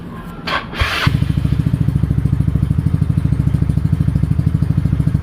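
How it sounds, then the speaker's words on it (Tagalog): A Yamaha Mio scooter engine cranks with a short electric starter burst, then settles into a steady, close idle with a fast regular putter. "Hindi ko nga pala to ginawang battery operated kaya kailangan munang buksan yung makina para gumana tong ilaw."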